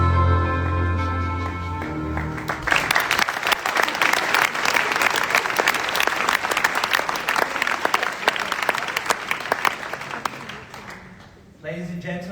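Applause from a large crowd fills the hall at the WorldSkills Competition closing ceremony at Messe Luzern in Lucerne, Switzerland. It rises after a musical lead-in and holds loud and steady for several seconds before dropping off near the end.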